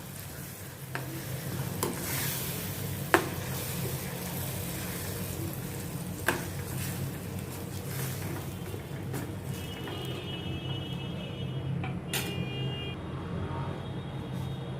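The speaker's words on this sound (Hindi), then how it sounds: "इनको भी मैं अच्छी तरह से मसालों के साथ मिक्स करती हूँ" Crushed tomatoes and spices stirred in a hot pan for a mixed vegetable sabzi, a steady soft sizzle with occasional spoon scrapes and clinks against the pan.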